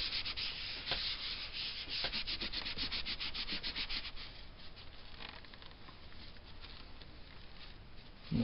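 A cloth wipes dust off a computer case in a steady series of close, soft rubbing strokes, rhythmic at first and then smoother and quieter.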